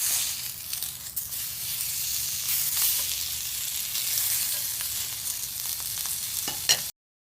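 A sous vide steak sears in a hot pan, giving a steady, loud, close sizzle with a few small pops that runs without a break until it suddenly cuts off.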